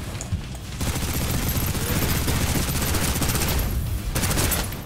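Sustained gunfire in the video game Snowbreak: dense, rapid volleys of shots rattle loud and continuous for several seconds, with only brief dips between bursts.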